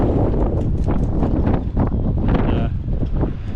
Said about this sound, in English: And this weather is really moving in now already. You can hear it in the rigging around me.